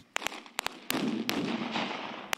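Explosions during Ukrainian military training, a rapid cluster of sharp bangs and cracks with crackling rumble between them, fairly close and loud, without talking, over a couple of seconds.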